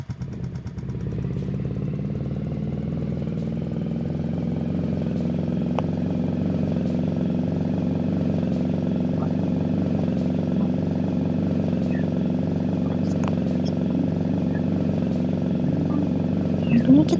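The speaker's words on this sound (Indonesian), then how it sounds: "Ini kita udah upgrade sepeda motor ya, jadi dia agak lebih kencang gitu larinya." An upgraded motorcycle in a video game runs at a steady engine drone with a constant low hum, close and continuous with faint clatter, no talk over it.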